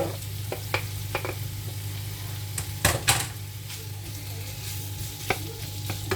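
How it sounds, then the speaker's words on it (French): Fish fries with half-cooked onions in a pan for a skillet gratin, giving a constant close sizzle over a low hum, punctuated by scattered utensil clicks and two louder scraping knocks midway. "on va laisser bien griller le poisson"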